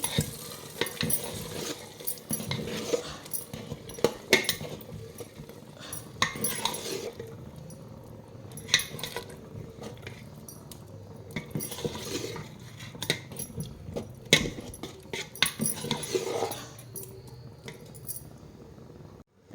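A spoon stirs cashews and raisins into pongal in a pot, making repeated soft scraping and clinking strokes at close range. The strokes come at an uneven rhythm and are fairly quiet, with no talking.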